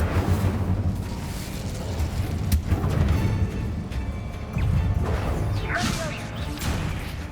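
A fire spell is cast in the video game Hogwarts Legacy, giving fiery whooshes and crackling bursts over a rumbling game soundtrack, with sharp impacts and swells of loud effects throughout.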